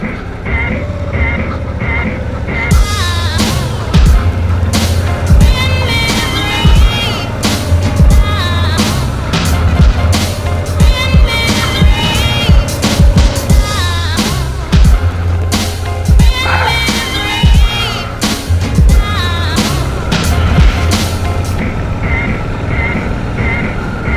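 A heavily loaded motorbike climbs a steep gravel hill, its engine droning loudly and continuously with rising and falling revs, buffeted by heavy wind noise, while a rider talks now and then over the engine.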